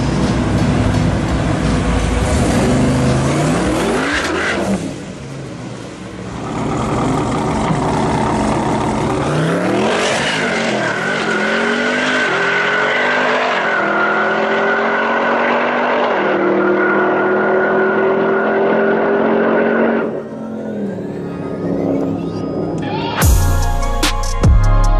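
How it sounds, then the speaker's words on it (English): A twin turbo Jeep Grand Cherokee Trackhawk making about 1400 hp accelerates hard, its loud engine roar climbing through gears with brief dips at each shift, loud and close throughout, with no voices. "so it's a twin turbo Trackhawk. It's making what, 13, 1400?"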